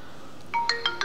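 A Vivo V21e 5G smartphone plays its ringtone for an incoming call, a bright melodic phrase of rising chime notes that starts partway through, clear and close, with no talking.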